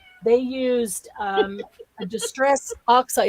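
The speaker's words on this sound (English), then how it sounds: "No, that's a cat." A house cat meows from behind a closed door, a few drawn-out, tonal cries mixed in with nearby people talking over it.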